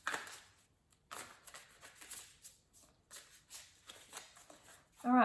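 Repeated papery riffling of a deck of tarot cards being shuffled in bursts, close by, with brief pauses between them.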